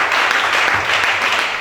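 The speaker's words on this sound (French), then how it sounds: "Acclame chacun." A church congregation clapping together, a dense, even burst of applause filling the room for a moment.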